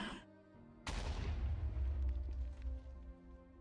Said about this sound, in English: Had a creeper explosion.